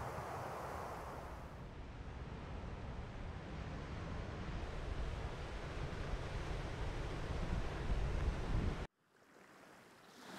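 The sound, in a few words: ocean waves crashing against rocks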